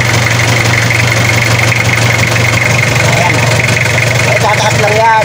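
A small engine runs steadily at a loud, constant idle for the whole stretch, with a strong low hum and no change in speed.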